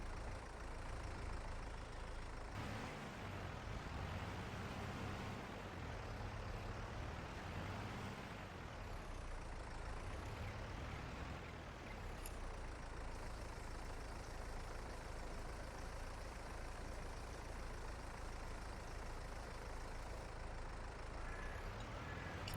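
A small Deutz tractor engine idles steadily and continuously on a farm, a constant low rumble held at an even level throughout, with no voices over it.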